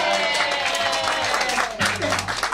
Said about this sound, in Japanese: 今日の出演者の皆様に大きな拍手。